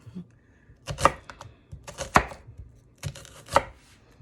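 A knife slices through onion on a cutting board in three separated bursts of quick, crisp chops, each cluster ending in a sharper thud, with quiet pauses between.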